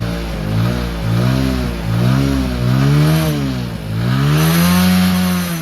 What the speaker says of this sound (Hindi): थोड़ा बाइक को स्टार्ट करने में टाइम लग रहा है क्योंकि यहाँ बहुत ही ज़्यादा ठंडा था रात में